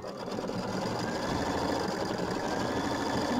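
An embroidery machine stitching a placement line for a raw-edge applique quilt block, a fast steady mechanical whir and patter that runs evenly for a few seconds with no talking.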